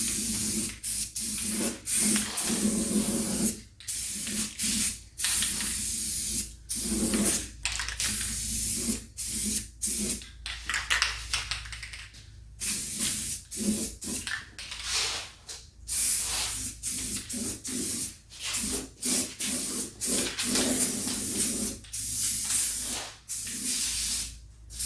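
Spray paint hisses from an aerosol can in repeated short bursts as a second coat goes onto scale model wheels for an RC 1977 Chevy Cheyenne, each spray close and crisp with brief pauses between.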